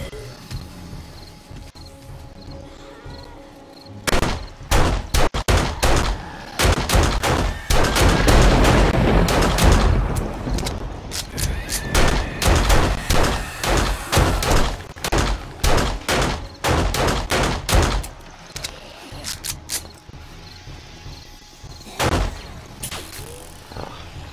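Gunshots in the zombie survival game 7 Days to Die, scattered sharp cracks and clustered bursts with some booms, irregularly spaced over a steady background and occasional talk.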